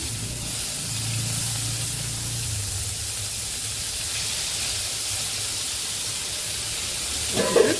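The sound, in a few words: curry leaves and onions sizzling in hot oil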